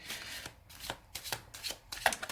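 Tarot cards being shuffled, heard as a run of quick riffling, papery bursts repeating in an uneven rhythm, close and moderately loud with no talking.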